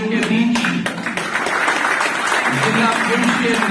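An audience claps during the announcement of a new BJP district president for Poonch, with brisk applause mixed under a voice speaking over it.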